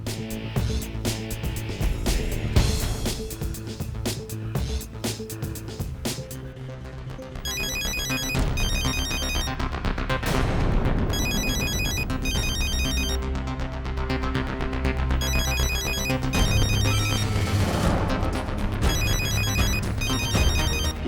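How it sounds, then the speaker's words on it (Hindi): A mobile phone ringtone plays loudly and continuously, a bright repeating electronic melody in regular bursts layered over dramatic background music, with no one speaking. "ये रिंगटोन तो इंदर का ही है ना?"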